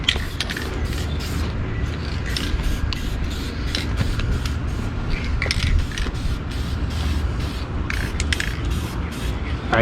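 A spray paint can hisses steadily, laying a metallic coat onto aluminum parts that were once anodized. The spray runs loud and close in repeated bursts.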